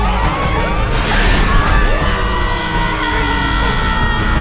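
Chaotic yelling and screaming from a Minions: The Rise of Gru trailer, loud and continuous with whoops, bellows and bangs layered over music and effects.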